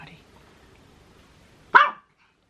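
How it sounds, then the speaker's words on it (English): A single short dog bark close by, sharp and loud, following near-silence with a faint sound at the very start. "Don't bark during my videos."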